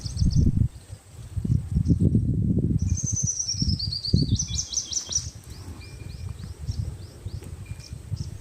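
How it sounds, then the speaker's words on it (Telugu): Repeated high-pitched bird chirps, some in quick descending runs, sound over a loud, steady outdoor rumble, fairly close and clearly audible. "పక్షుల కిలకిల రావాలు బ్రహ్మాండంగా ఉన్నాయి"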